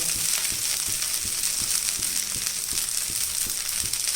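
Rice mixed with gram flour roasts in a pan with a steady, close sizzle, broken by regular soft scraping knocks as it is stirred.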